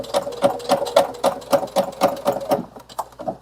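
A sewing machine stitches a water bottle pouch with a 1.5 stitch length, running close and loud as a steady, rapid rhythmic chatter that eases toward the end.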